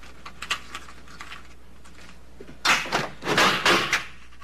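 Soft key and lock clicks and rattles, followed by a louder burst of handle and door movement as a door is unlocked and swung open, close and without speech.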